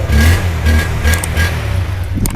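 A Honda CB150R motorcycle engine revs in repeated bursts close by, rising and falling several times in quick succession, with a small clatter near the end and no speech.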